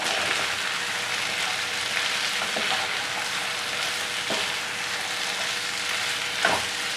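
Chicken with small and large onions sautés in a pan for Kerala chicken roast, giving a constant close sizzle and a few light stirring knocks.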